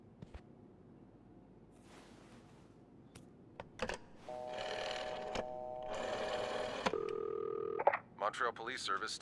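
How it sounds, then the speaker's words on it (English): Tones of a phone being dialed to call the police in the game This Bed We Made, with a run of steady beeps and a held ringing tone. Faint talk and small clicks come before them. "I have to call the police and let them know about Hector."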